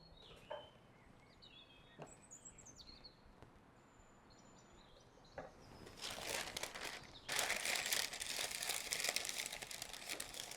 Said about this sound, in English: then line it with a piece of parchment